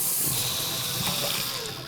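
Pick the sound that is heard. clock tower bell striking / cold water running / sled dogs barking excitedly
cold water running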